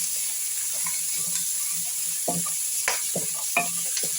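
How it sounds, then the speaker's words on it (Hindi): Cleaned chicken feet frying in a pan for soup, a steady close sizzle with a few clicks and scrapes of stirring scattered through. "ये जो पंजे हमने साफ करके और धो के रखे हुए हैं, इसको हम थोड़ा सा करेंगे फ्राई"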